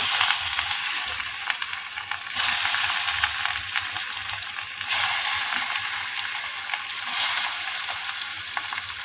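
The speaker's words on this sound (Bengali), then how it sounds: "তেল গরম হয়ে গেছে" Hot oil sizzling in a pan before hilsa fish go in for fried eggplant and hilsa, a steady close frying hiss that swells in a few waves, with no talk.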